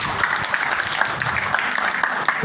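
A church congregation breaks into lively applause during a sermon, a dense steady patter of many hands clapping at close range, sustained and fairly loud throughout with faint voices mixed in.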